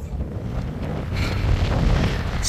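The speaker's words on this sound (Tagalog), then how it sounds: "So, ang lakas ng hangin." Heavy wind roars across the microphone, loud and continuous, building slightly toward the end.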